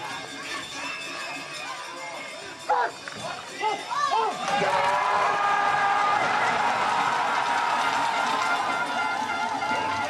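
A Swiss crowd at the St. Moritz four-man bobsleigh world championship start, with commentary over quieter crowd noise at first, then a loud, sustained swell of cheering, shouting and horns as the sled launches.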